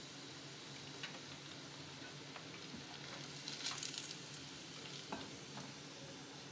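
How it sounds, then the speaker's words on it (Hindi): Chicken pieces fry in hot oil until golden, a steady close sizzle and crackle with occasional stirring scrapes and spits, no voices. "हमने इतने फ्राई करने हैं कि थोड़ा सा गोल्डन कलर आ जाए"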